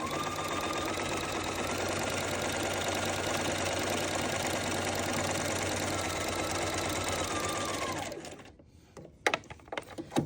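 A sewing machine stitching a Sew Together Bag runs continuously with a fast, even mechanical whir for about eight seconds, then stops, followed by a few faint clicks and handling sounds.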